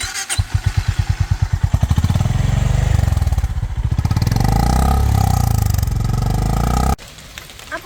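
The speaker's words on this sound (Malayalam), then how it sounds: "അടുത്തതായിട്ട് ഇതിൻ്റെ എക്സോസ്റ്റ് സൗണ്ടും കൂടെ ഒന്ന് കേട്ട് നോക്കാം." A Honda H'ness motorcycle exhaust thumps at idle in a slow loping beat, then revs up into a loud, deep, sustained roar that cuts off sharply near the end.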